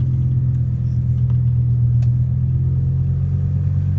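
A straight-piped S85 V10 in a BMW E60 M5 idles with a steady, deep, close rumble, while any power steering whine stays faint beneath the engine drone.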